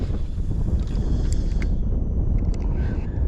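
Steady wind buffets the microphone while fishing for redfish from a small boat, a loud continuous roar with faint higher clicks and rattles mixed in, and no talking.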